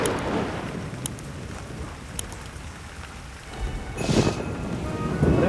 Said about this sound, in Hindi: अरे बारिश रुकने का नाम ही नहीं ले रही है।